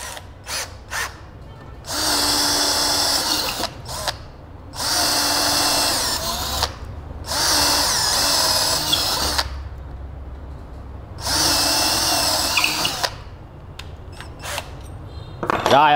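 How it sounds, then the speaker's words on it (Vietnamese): An INGCO CDLI2002 20V cordless drill with a bit whirs loudly up close in four sustained bursts of drilling, each lasting one to two seconds or so, separated by brief pauses and small clicks. "Khi anh em dùng máy khoan này, khoan cái mũi này thì anh em sẽ khoan gần như không bị trễ luôn, không bị đứng máy"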